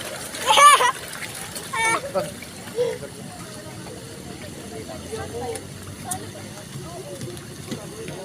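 Large fish in a pond at Nuvali thrash at the surface while competing for thrown bread, with a loud burst of close splashing early on, then a few softer splashes under people's talk and a voice.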